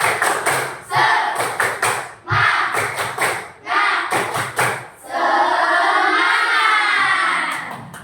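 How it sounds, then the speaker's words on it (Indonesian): Schoolchildren in a classroom do a rhythmic 'tepuk semangat' clapping chant, sharp loud claps in patterned bursts with brief pauses, ending in a sustained group shout or cheer. "yuk kita menunjukkan kesiapan dengan seperti biasa tepuk semangat"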